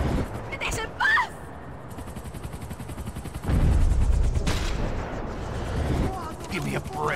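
Bursts of gunfire from the Max Payne 3 video game ring out loud and close amid a chaotic action scene, with shouting voices, engine roar and a heavy rumbling stretch in the middle.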